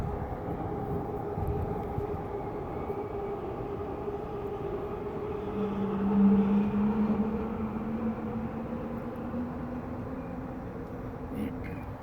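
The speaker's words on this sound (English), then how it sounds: "Hang on, train's gotta go by." A train rumbles steadily past, a broad continuous roar with a low droning tone, swelling slightly midway and holding for the whole stretch.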